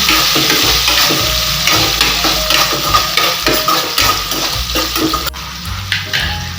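Chopped onion sautés in oil for a dal sambar, a loud continuous sizzle punctuated by rhythmic scraping of a spoon stirring against the pan.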